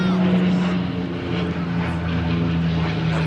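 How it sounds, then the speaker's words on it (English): A seaplane's propeller engine drones steadily overhead along Alcudia beach on Mallorca, a loud continuous buzzing hum with a person talking over it. "That goes the water plane, the seaplane."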